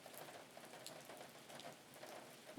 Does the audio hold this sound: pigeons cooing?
no